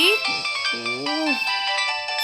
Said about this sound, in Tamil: ஃபோன் அடிக்குது பாருங்கடி.